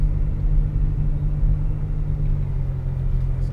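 A Litchfield-tuned Nissan R35 GTR pulling away, a steady low engine rumble close by with no clear rise in revs.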